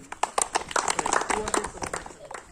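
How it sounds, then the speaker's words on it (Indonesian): A group of villagers at a community sanitation meeting claps together in a brisk patterned burst of many quick claps, moderately close, with some voices mixed in. "Oke, kalau bisa kita tepuk sekali lagi."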